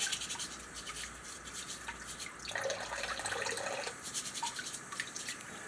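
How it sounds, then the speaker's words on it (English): Kitchen tap trickling steadily into a sink while beets are scrubbed under it with a vegetable brush, a close, continuous wash of running water with soft rubbing through the middle. "I'm just letting it trickle just to wash the dirt"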